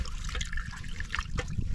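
Broth pours into a pot at close range as a steady liquid splash and trickle, with a few brighter sloshes near the end.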